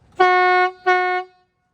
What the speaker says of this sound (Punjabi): ਟ੍ਰੇਨ ਵਾਲੇ ਹਾਰਨ ਲੱਗੇ ਜਿਹੜੇ ਕਹਿੰਦੇ ਵੱਡੇ ਲਵਾਏ ਆ